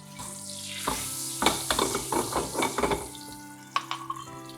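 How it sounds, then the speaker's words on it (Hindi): A little water splashes into hot oil tempered with Kashmiri chili for karhi pakora, setting off several loud sizzling bursts up close, then a final short crackle as it settles. "बिल्कुल थोड़ा सा पानी।"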